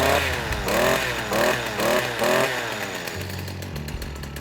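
A STIHL KM56 small two-stroke engine pulls over and sputters to life, revving in several rising bursts before settling into a buzzy idle, loud and close with no talking.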